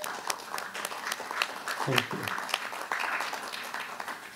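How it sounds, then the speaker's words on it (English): A round of applause for honorees at a meeting of the President's Advisory Commission on Asian Americans and Native Hawaiians/Pacific Islanders, steady clapping from a room of people lasting several seconds, with a voice briefly speaking over it. "May I request everybody to give a big round of applause for these incredible individuals."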